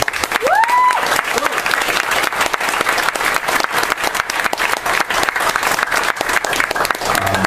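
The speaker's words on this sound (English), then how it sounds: "So I just want to give them a round of applause real quick." A crowd at a science pub gathering claps loudly and steadily for several seconds, dense sharp hand claps with a whoop near the start.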